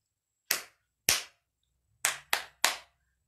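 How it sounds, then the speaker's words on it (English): Close, sharp hand claps ring out at toddler circle time: five crisp strikes in clear isolation, two spaced slowly, then a pause, then three in a quicker run, with quiet between them. "Clap your hands."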